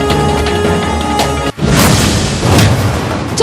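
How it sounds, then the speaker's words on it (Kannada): A bomb explosion sound effect in a Kannada news report on the 2019 suicide bombing inside a church in Sri Lanka: a loud, rumbling, noisy blast that fills the clip, with a brief dip midway and no speech. "ಚರ್ಚ್ ಒಳಗೆ ಆತ್ಮಾಹುತಿ ಬಾಂಬ್ ಸ್ಫೋಟ."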